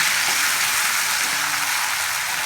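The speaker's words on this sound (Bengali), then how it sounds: "এবার ওই একই তেলে কেটে রাখা আলুগুলোকে সামান্য হলুদ আর লবণ মিশিয়ে রেখে ভেজে নেব" Cut potatoes tossed with a little turmeric and salt fry in hot oil, producing a loud, dense, continuous sizzle that holds steady throughout with no voices.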